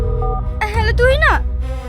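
Telephone keypad tones as a number is dialed in a Bangla drama, with several short beeps near and clear against a low background hum, and a voice heard partway through.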